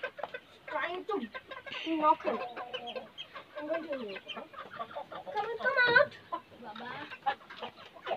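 Village hens, including naked-neck birds, and a new aseel rooster cluck around a backyard, frequent short calls near and mid-distance under ongoing conversation.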